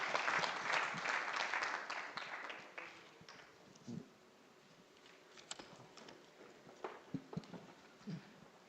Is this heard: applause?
yes